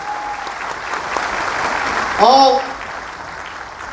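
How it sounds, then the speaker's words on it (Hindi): Crowd applause at an Allahabad Medical Association event, steady clapping from the audience under a voice, with a brief cheer or whoop cutting through midway before the clapping continues. "एक बार जोरदार तालियां।"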